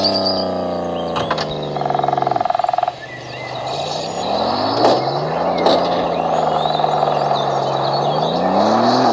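A 1996 Toyota Tacoma pickup with a 4.0L V6 crawls off-road, engine droning and rising and falling in pitch while the chassis clunks and creaks over rough ground, loud and close, with no voices.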